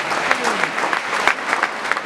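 Audience applause for marchers completing a long walk in a Malayagam 200 commemorative event, a steady crowd of clapping hands, dense and close, continuing without a break for the whole brief moment.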